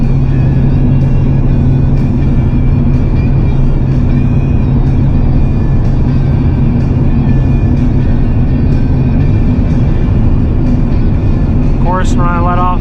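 The 24-year-old 8.1-litre gas V8 truck engine drones loud and steady from inside the cab while towing 18,000 pounds on a mountain pass, with a brief voice near the end.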